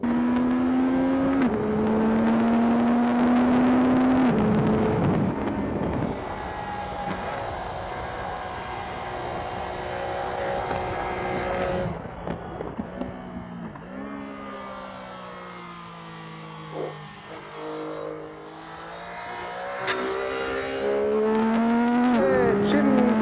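CFMOTO 675SR-R superbike engine revving and pulling through the gears, harmonic tones climbing then dropping at each shift, loud and close with passing road noise, while someone speaks over parts of it.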